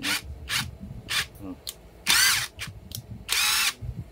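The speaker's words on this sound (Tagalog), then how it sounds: "Meron ka ng instant drill. Ayan, electric drill. Impact version." An impact wrench converted into a cordless drill runs in short, loud whirring bursts separated by pauses, two of the bursts longer and stronger, with faint handling noise between them.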